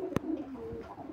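Pigeons, a hen among birds being bought, give soft low cooing calls through a short stretch, with two brief sharp knocks breaking in near the start and end.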